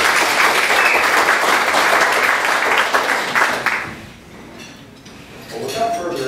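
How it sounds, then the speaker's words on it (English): A room of people at a club meeting clap for guests, dense applause with faint clinking of dishes and glass that fades out after about four seconds, leaving quiet room noise and brief voices. "Round of applause for our guests."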